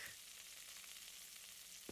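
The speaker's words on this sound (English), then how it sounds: "Cook the steak." Steak sizzling as it cooks in the Adios video game, a faint, even hiss of frying that holds steady for two seconds.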